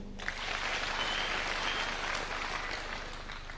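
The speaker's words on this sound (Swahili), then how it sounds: "Tujipigie makofi." An outdoor political rally crowd breaks into loud, sustained applause and clapping for a few seconds at a roads and infrastructure speech, fading slightly toward the end.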